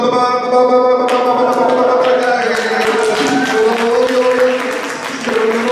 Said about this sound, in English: Wait, we weren't supposed to clap